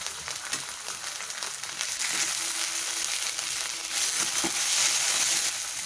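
A teaspoon of ginger garlic paste fries in a pan for a paneer and veggie roll, giving a steady close sizzle that grows a little louder partway through.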